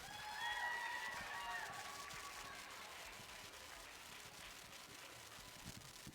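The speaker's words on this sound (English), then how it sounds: "Let's give those exhibitors another big round of applause." Crowd applause at a county fair youth market swine show, honoring the exhibitors: a broad, steady wash of clapping heard from a distance, fairly faint, fading slightly over several seconds, with no talk on top.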